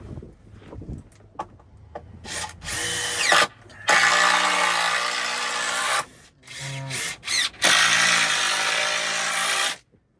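A cordless power drill drives screws into wood, with several long whirring bursts separated by short pauses and brief starts, close and loud.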